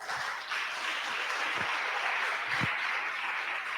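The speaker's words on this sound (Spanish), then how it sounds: "Denle un aplauso a Jesús." A church congregation applauds during a Sunday morning service, a steady dense wash of clapping held at even loudness throughout, with a few low thumps underneath.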